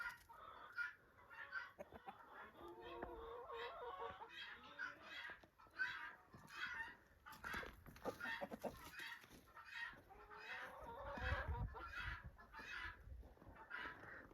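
Rooster crowing and hens clucking on a farm at dawn in winter, repeated close crows and busy overlapping clucks, fairly quiet overall with no talk.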